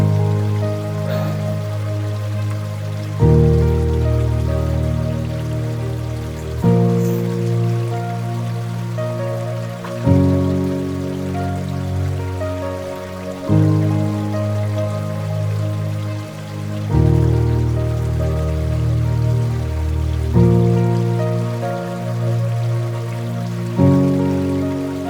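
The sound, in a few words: water dripping and flowing inside Devil's Cave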